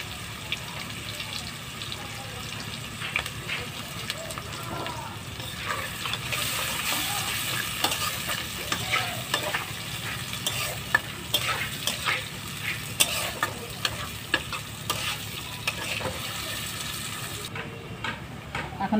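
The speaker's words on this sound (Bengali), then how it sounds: "এবার মাছটা চচ্চড়ি করার জন্য দেব পেঁয়াজ ফোড়নে।" Onion and green chili fry in oil alongside already-fried small mola fish as the pan is stirred, giving a steady sizzle with scraping, clattering stirs throughout and no talk.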